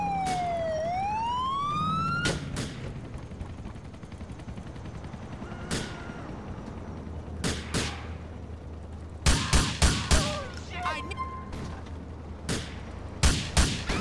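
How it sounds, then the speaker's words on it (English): Gunfire in the GTA IV LCPD:FR police mod plays out as a falling then rising police siren, followed by bursts of sharp gunshots in clusters, some rapid, loud and near, with no talking. "shots fired, shots fired"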